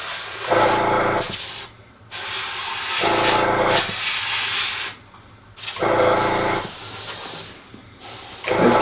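Acrylic paint sprays in a thin mist from an airbrush onto a Tiger I tank model, in steady hissing bursts of one to two seconds separated by short pauses, close and fairly loud with no talking.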